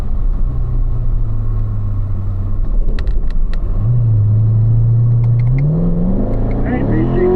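A Corvette on a race track at a performance driving school, engine droning and rising in pitch as it accelerates, heard from inside the car with steady road and wind noise and an instructor talking over it.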